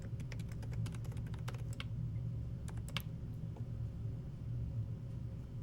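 Quick, light clicks of a computer keyboard as a Linux terminal command is typed, a burst of keystrokes over a steady low rumble, then a pause and a few more taps.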